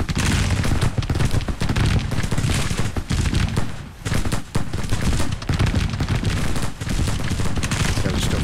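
Civil War infantry gunfire in Grand Tactician rolls on as a loud, continuous crackle of massed musket volleys, dense and overlapping with brief dips between waves of firing.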